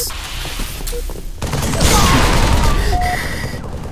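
Rapid gunfire and booming explosions from the video game Halo 3 build into a dense, loud barrage of shots and impacts during online multiplayer.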